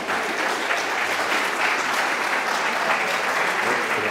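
Audience applause at a LEA cultural event with Luz Casal and Enrique Vila-Matas, a dense, steady clapping from many hands, loud and sustained without a break.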